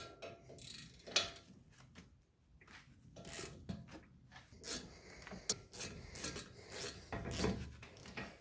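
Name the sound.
3/8 ratchet with 8mm hex loosening BMW F30 brake bolts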